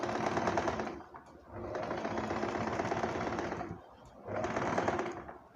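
A sewing machine stitching small pleats in a panel skirt runs in three steady, rapid-clatter bursts separated by brief pauses, close and fairly loud, with no talk over it.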